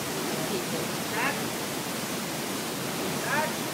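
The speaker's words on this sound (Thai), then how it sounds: "น้ำตกแรงมาก" Steady, loud broadband rush of a waterfall in Indonesia fills the whole clip, with faint voices briefly audible over the roar.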